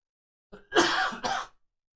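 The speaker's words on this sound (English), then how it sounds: "I have to cough." A single close, rough cough with a throaty clearing edge, split into two bursts, then silence.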